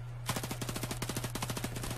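Gunfire in the video game Battlefield 4 rattles out as a sustained rapid automatic burst, loud and close, over a steady low hum.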